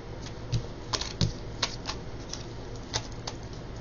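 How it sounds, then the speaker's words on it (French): Tarot cards being shuffled so that some jump out of the deck, heard close up as a steady papery riffling with several sharper snapping flicks scattered throughout. "pour ceux qui n'aiment pas le bruit des cartes qui jump"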